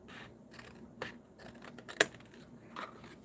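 Scissors snip paper for a traveler's notebook junk journal, giving a few sharp, quiet cuts spaced about a second apart over a soft rustling background.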